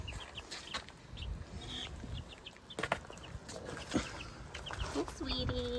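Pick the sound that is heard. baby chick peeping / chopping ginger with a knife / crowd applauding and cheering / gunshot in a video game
baby chick peeping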